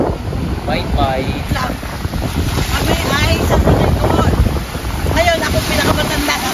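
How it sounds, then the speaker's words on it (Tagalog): Strong wind at Milano Marittima Beach buffeting the microphone in loud, continuous rumbling gusts, with faint surf and scattered voices underneath. "ang lakas ng hangin ha"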